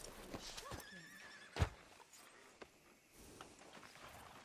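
A horse in the video game Red Dead Redemption 2 gives a quick whinny amid soft hoof clip-clops and a sharp thump, followed by faint footsteps and ambient game sounds.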